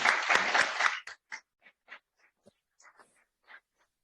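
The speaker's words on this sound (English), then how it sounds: "can we give a round of applause to Malia and Thomas?" An audience claps after a university economics society panel on net zero policy, a full burst of applause for about a second, then scattered single claps trailing off into quiet.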